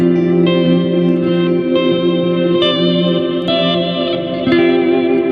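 Guitar chords pass through the reverse reverb of an EarthQuaker Devices Avalanche Run pedal, each note swelling in with a blurred attack and ringing on loudly in a continuous wash, with no voices.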